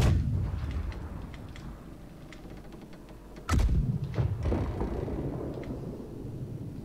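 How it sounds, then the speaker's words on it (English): Cannons fire aboard a sailing schooner in a naval game: a heavy low boom opens, then a second deep blast erupts midway, each trailing into rumbling wooden creaks and ship ambience. "Last cannon line can be fired."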